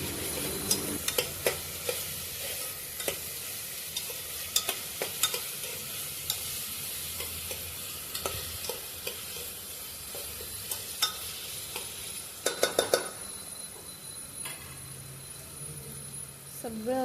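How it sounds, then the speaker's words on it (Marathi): Ginger garlic paste sizzles in hot oil while a spoon stirs it around the pan. The frying hiss is steady, with frequent scraping clicks close by, and a person talks over it. "आलं लसूण पेस्ट घ्यायची आहे, व्यवस्थित तेलात सगळं परतून घ्या।"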